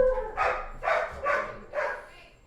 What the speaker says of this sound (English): Dogs are going wild.